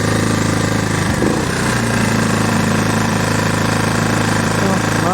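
A small inverter generator converted to run on methane (CNG) runs steadily after a pull start, a constant close engine drone with a brief disturbance near the start and no break.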